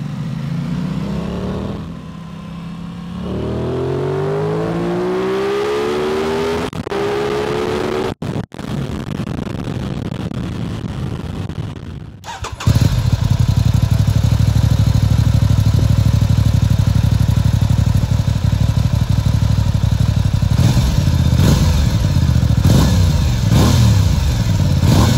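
An Aprilia Tuono 660 motorcycle engine runs close by, its pitch swelling and easing through a few revs before breaking into a much louder, steady roar that holds to the end.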